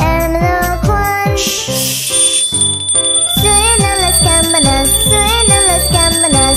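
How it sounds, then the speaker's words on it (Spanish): Bright, bell-like chimes ring through the Spanish-language children's song "¿Estás durmiendo, hermano Juan?" (Frère Jacques), repeating over a steady bouncy accompaniment with sustained high tones. "Suenan las campanas, ding, dan, dan"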